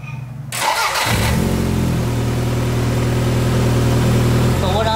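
A car engine cranks briefly and then catches, settling into a steady, loud idle that runs on continuously up close.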